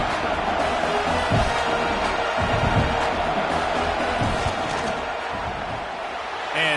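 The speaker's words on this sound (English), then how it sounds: "This crowd trying to do its part to get inside the kicker's head." Stadium crowd at a football game before a field goal kick, a broad roar of many voices rising and falling, with a commentator talking over it.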